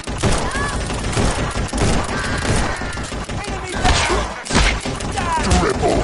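Dual pistols firing in the video game Guns n Stories, delivering a steady barrage of close, loud shots in rapid succession with shattering impacts mixed in, and a voice talking over the shooting.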